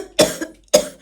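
Two sharp, close coughs, a short pause between them.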